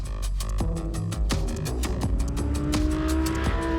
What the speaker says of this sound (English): hearing that big V10 behind your ears is really, really quite special